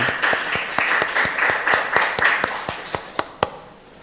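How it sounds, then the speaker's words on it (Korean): A church congregation applauds to welcome a speaker to the front, brisk clapping that thins out to a few last scattered claps, fairly close with no talk over it. "박수로 초대하겠습니다"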